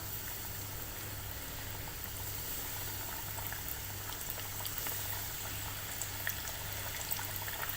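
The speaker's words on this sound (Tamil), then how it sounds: "நம்ம இப்போ இதில் விங்ஸை சேர்த்துடலாம்." Chicken wings frying in hot oil at home, a continuous fine sizzle and crackle bubbling steadily at moderate level with a low hum beneath, no talking.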